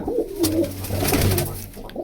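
A one-legged pigeon gives a close, soft coo against a light background hum, a single brief murmuring call with no talk.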